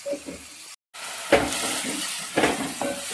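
Onion and tomato frying in a pan for a Konkani mutton dish, with a steady broadband sizzle, a brief dropout, and a couple of sharper stirring or clinking bursts of the utensil against the pan.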